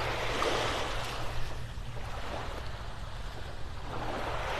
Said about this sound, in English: Waves lapping up on the shore here.